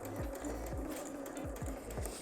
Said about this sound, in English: you're going to start with the back stitch like usual